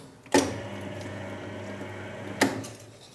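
A stand mixer on its lowest speed works scone dough with a steady, close motor whir. Two sharp knocks stand out, one near the start and one near the end.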